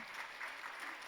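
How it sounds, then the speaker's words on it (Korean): A church congregation applauds during a Sunday worship service, a brief, soft, distant patter of many hands clapping together. "박수로 축하 격려하겠습니다."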